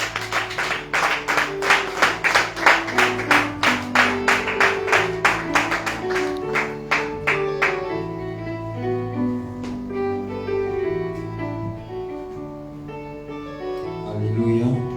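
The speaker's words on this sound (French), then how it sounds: "Applaudissez pour le Seigneur." A church congregation claps for the Lord in rhythmic, even beats that are loud and steady for about eight seconds, then thin out as a sustained sung or organ-like tone carries on beneath.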